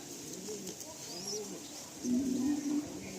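Madrasi pigeon cooing nearby, a soft low murmuring coo that grows louder and steadier toward the end, with faint background noise.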